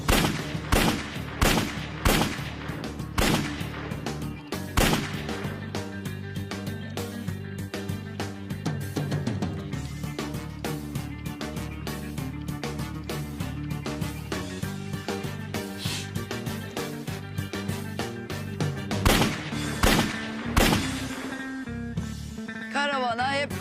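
Repeated gunshots ring out over a steady musical score, sharp loud cracks in irregular bursts that are heavy at the start and again near the end, with sparse shots between.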